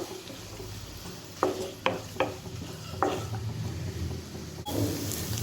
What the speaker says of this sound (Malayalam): നന്നായിട്ടൊന്ന് എല്ലാം കൂടി ഒന്ന് വഴറ്റിയെടുക്കാം